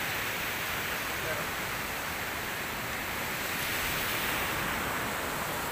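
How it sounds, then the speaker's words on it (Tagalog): Strong waves roll in at a beach as a continuous broad, roaring wash of surf, with faint voices underneath. "Nalakas ng alon dito, ang sarap"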